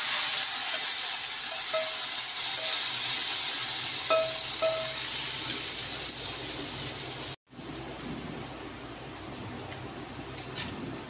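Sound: fried onion tempering sizzling

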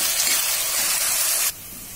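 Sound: finely chopped onions frying in a pan

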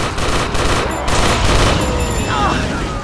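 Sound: gunshots in a video game

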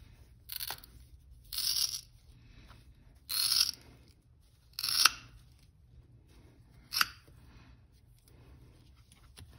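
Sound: cutting rope ends with diagonal cutters

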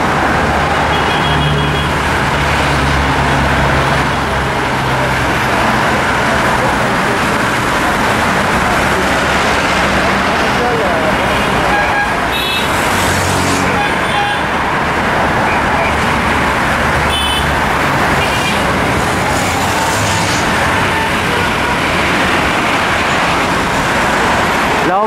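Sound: car traffic on Javier Prado avenue at night

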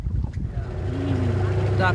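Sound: small motorboat travelling through mangrove forest

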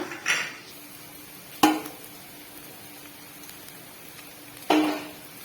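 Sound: stirring chicken cutlet mixture in a bowl

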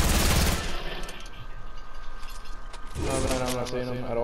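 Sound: gunfire in the video game Fortnite

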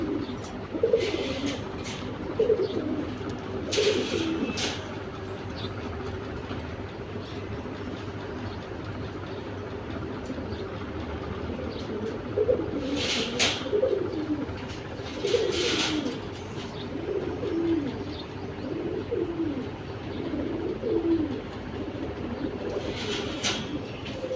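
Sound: pigeons cooing in a loft

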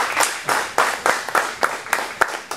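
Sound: audience applause for Facundo

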